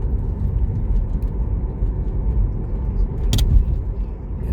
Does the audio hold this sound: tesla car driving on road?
yes